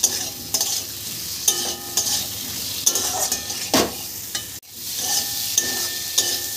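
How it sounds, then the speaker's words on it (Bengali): Fried potato and papaya pieces are stirred through spices in a hot pan, giving a steady oily sizzle broken by repeated scraping strokes of a spatula and one brief pause before the frying resumes. "মশলার সাথে আলু পেঁপেটাও ভালো করে কষিয়ে নিলাম"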